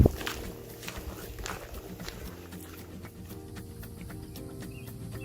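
Footsteps fall at a steady, regular pace while backpacking on an outdoor trail. The crunching steps are fairly faint, and birds chirp in the background.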